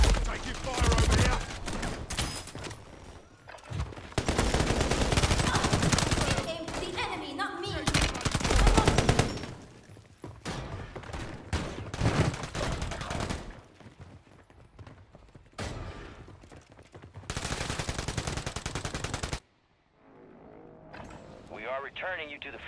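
Call of Duty 3 battlefield gunfire: dense, loud bursts of machine-gun and rifle fire crackle in uneven waves, with occasional lulls, under in-game voices calling out.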